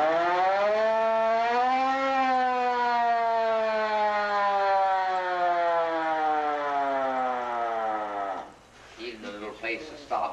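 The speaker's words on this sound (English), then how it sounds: "This is the siren." A fire engine's mechanical siren winds up and holds a loud, steady wail for about eight seconds, then cuts off abruptly, leaving a brief clatter of handling noise.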